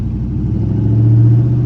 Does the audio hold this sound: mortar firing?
no